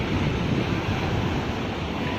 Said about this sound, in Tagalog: Grabe na alon.